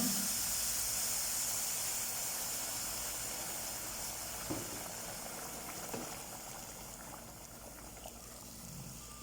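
Boiling water being added to rice in a pan, a continuous hiss and bubbling rumble with a couple of soft knocks, fading slightly over time, no talk.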